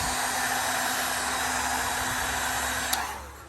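A heat gun blows a steady, loud whooshing rush of hot air at vinyl wrap on a car door handle, holding constant for about three seconds before easing off near the end.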